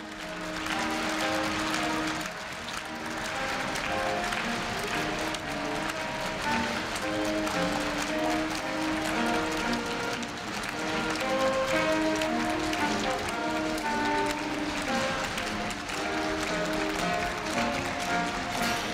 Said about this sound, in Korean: 총장님과 교무위원님들이 퇴장하실 때 아주 큰 박수로 환송해 주시기 바랍니다.